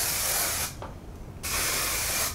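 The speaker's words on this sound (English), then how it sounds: "So if you're wanting a shine spray, I totally recommend this one." A can of hair shine spray releases two bursts of fine aerosol hiss, a long loud spray, a brief pause, then a second steady spray close by, with no talking.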